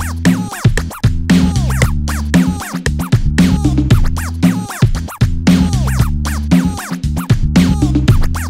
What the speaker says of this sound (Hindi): बेसलाइन ऐड करने के बाद ये कुछ ऐसा साउंड कर रहा है